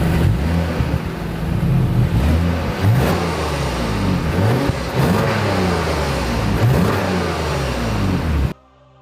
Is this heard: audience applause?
no